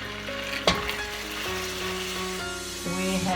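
Caramel sizzles and bubbles steadily in a pot as vanilla essence is poured in for caramelized popcorn, with a sharp splash-like burst near the start, then continuous close frying hiss with some stirring.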